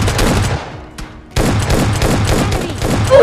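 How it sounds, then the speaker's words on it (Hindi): Video game gunfire from a squad house, dense rapid bursts of automatic shots, loud and close, broken by a brief lull before the volley resumes. "आगे स्क्वाड हाउस से हमको गोली और गुम्मे की आवाज आ रही होती है"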